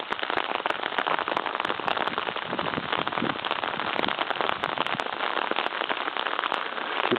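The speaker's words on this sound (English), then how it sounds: "Stupid rain." Rain falls outdoors with a dense, continuous patter and hiss, close and fairly loud, holding steady throughout with no voices.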